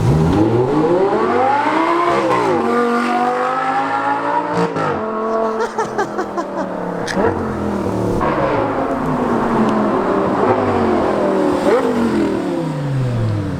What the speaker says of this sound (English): This is the best sounding exhaust I've ever had.